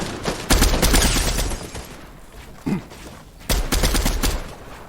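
SMG gunfire in Fortnite: rapid bursts of automatic shots, a long volley up front, a brief pop midway, then another fast burst, close and loud with no talk.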